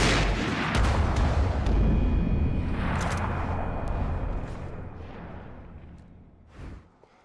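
Gunfire from the Max Payne 3 video game fills the scene with covering fire. A dense, loud wash of shots and booms rumbles continuously, then fades toward the end.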